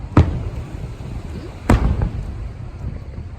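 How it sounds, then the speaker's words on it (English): Fireworks at a 4th of July show at Redondo Beach: two sharp booms about a second and a half apart, each trailing a rumbling echo, heard from a moderate distance. "let's enjoy the fireworks."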